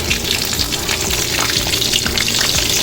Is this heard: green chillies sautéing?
yes